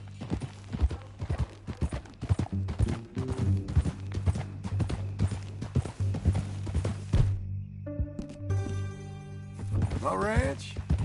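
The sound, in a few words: horse hooves clip-clopping, from video game Red Dead Redemption 2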